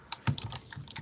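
Quick typing on a computer keyboard while a RAID-1 mirrored disk setup is configured on a server, a run of close, uneven key clicks with no talking.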